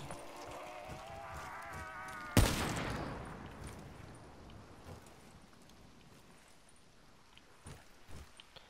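A single loud gunshot from Black Ops 3 zombies mode, played in the Shadows of Evil map, cracks sharply after a stretch of tonal in-game sound and then decays under scattered faint clicks.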